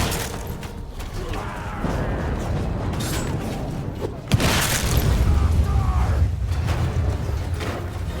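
A fire pot launched during a field battle in Mount & Blade 2 Bannerlord, a sudden sharp boom midway through a constant din of battle noise and rumbling, with someone talking over it.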